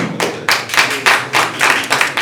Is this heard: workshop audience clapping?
yes